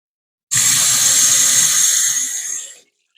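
Tap water runs steadily into a cooking pot for Mexican rice, a loud continuous gush that starts abruptly, holds for about two seconds, then tapers off as the flow is shut.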